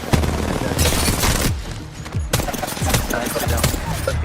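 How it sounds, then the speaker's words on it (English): A grenade explodes amid a heavy firefight in the battle royale shooter Apex Legends, with loud, dense gunfire and blasts running almost without a break. "That was a really good grenade."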